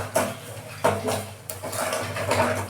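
Tomatoes and garlic being mashed in a pan for a hotel-style mushroom gravy, with a utensil repeatedly knocking and scraping the metal pan in close, uneven strokes and no talk.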